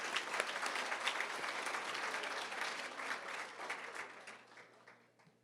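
Audience at a nursing luncheon claps in a steady, full round of applause that holds for several seconds and then gradually thins and fades toward the end.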